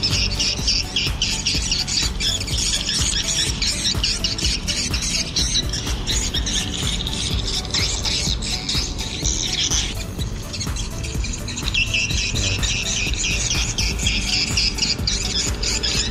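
Swiftlets at a busy feeding area near a swiftlet house, a dense flock giving rapid high twittering and squeaky chirps that overlap continuously and loudly, with no talk.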